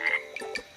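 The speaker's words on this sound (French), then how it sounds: "Mais non, c'est une grenouille, Chavapa." A frog croaks in a cartoon setting, one short raspy call with a second brief croak following, fairly faint and heard alone without talk.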